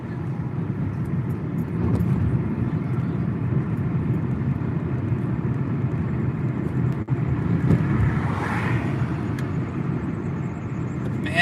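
A video-game car drifting through canyon curves, its engine a steady, loud drone held throughout with slight swells and no clear breaks.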